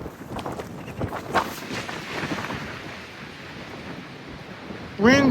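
Strong gusty wind buffets the microphone on a mountain summit as thunder and lightning roll around, a steady broad roar with a few louder surges and a brief voice at the end.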